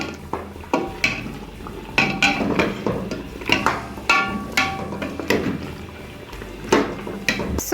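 Goat trotters for paya being mixed in a cooking pot, with repeated scraping, knocking and clinking of a spoon against metal in an irregular rhythm, fairly close and continuous, with no voice.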